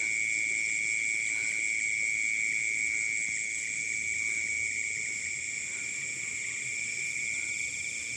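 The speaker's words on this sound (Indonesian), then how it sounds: "Nah, suara jangkrik tuh sahabat ya." Crickets chirp in dark rice paddies at night in an Indonesian countryside, a continuous high, shrill drone holding steady the whole time, loud and close with a low background hiss and no talking.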